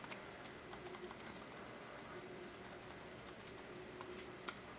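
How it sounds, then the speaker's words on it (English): Typing on a Sanoxy Bluetooth keyboard for iPad, a quick run of light plastic key clicks in a steady rhythm, close but faint, with one slightly firmer tap near the end and no talking. "Start typing in there."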